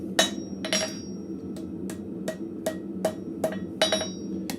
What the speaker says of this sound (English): we're going to start hitting it down. I'm using my cross peen.